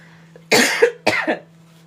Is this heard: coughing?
yes